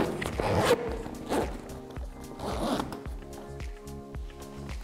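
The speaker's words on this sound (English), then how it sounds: "And with the zip, on this side, same on the other." Zipper being drawn along the side of an X-Go Nano travel bag, a series of close, rhythmic ratcheting pulls that repeat steadily over several seconds with no talking.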